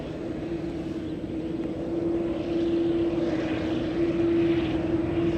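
Airplanes landing on parallel runways at San Francisco airport produce a steady, fairly loud engine drone with a sustained tonal whine that swells slightly toward the end.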